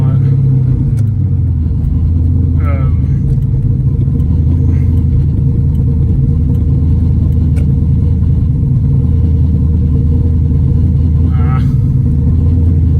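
A Corvette Z06's exhaust gives a deep, steady low rumble heard from inside the car. It runs continuous and loud throughout, with a few brief faint sounds above it.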